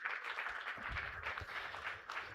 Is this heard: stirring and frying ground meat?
no